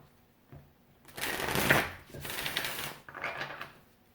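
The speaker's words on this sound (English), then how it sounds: "I'm going to shuffle the Natural Enchantment Oracle deck." An oracle card deck, the Natural Enchantment Oracle, is shuffled by hand in two or three close riffling bursts with brief pauses between, alone and fairly loud.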